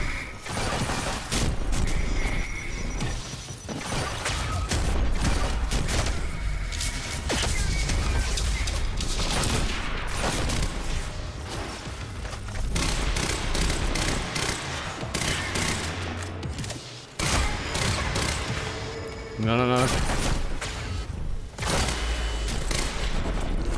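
Near-constant gunfire in the game Quantum Break, dense automatic bursts and heavy impacts crashing continuously for over twenty seconds, loud and close with brief gaps and no talking.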